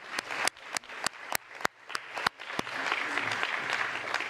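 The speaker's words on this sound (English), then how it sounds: "I think we can applaud them." Audience at a UNESCO committee session applauding panel speakers: a few loud, separate claps at first, then a fuller patter of clapping that settles into a steady, moderate wash.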